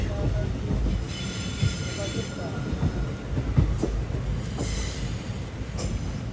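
Rajkot–Bhuj daily special express train running near Wankaner station, a loud continuous rumble of wheels on track with rattling carriages, squealing wheel tones and scattered clacks from up close.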